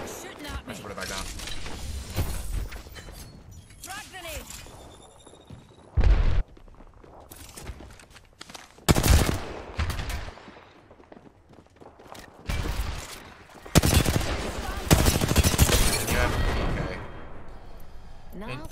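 Gunfire in a video game shooter, with repeated loud bursts and single sharp shots scattered across the stretch amid clanking mechanical game sounds, some volleys long and dense, others brief.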